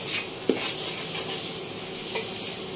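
Chicken vada masala with turmeric sizzles steadily in a hot pan in Malvani cooking, with a couple of soft spatula scrapes over the continuous frying hiss, close and without talk.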